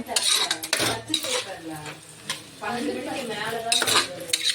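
Mixed vegetables, including carrot, beans, mushroom and soybeans, being stirred in a cooking pot, producing loud metallic clanks and scrapes of a spoon on the pot in uneven bursts, with a faint voice briefly in the background.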